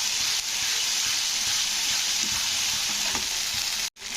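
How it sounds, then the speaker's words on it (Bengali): Ginger-garlic paste with turmeric sizzles and fries steadily in a hot pan for a jackfruit curry, a continuous close hiss with faint stirring scrapes and no talk. "আদা রসুনটাকে কষে নিতে হবে যতক্ষণ না আদা রসুনের গন্ধটা কেটে যাচ্ছে"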